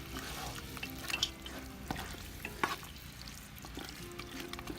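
Mutton cooking in a pan for South Indian Chettinadu-style biryani, giving a steady close sizzle and bubbling with occasional stirring scrapes and clinks, and no talking.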